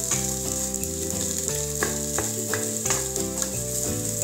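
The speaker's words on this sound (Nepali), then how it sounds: "यसरी सबै मसला राम्रोसँग मिल्ने गरी चलाउँ आलुलाई" Spiced potato filling for samosas frying and being stirred in a pan: a constant bright sizzle and hiss under loud, stepping background music that plays throughout.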